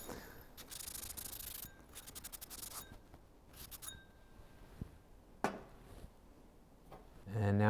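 Steady abrasive rubbing and scrubbing on a copper pipe fitting, close up, in bursts with brief pauses and a few light clinks.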